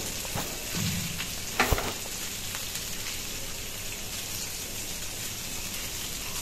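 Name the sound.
fish frying in a pan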